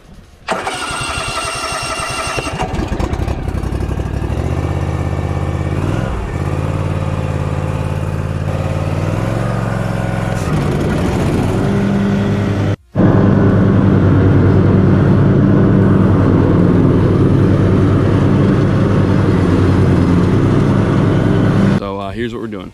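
Mower engine cranking and running while mowing a field, with a nearly open exhaust; close, loud, shifting revs, a brief cut-out midway, then a rougher, louder run. Someone speaks over it.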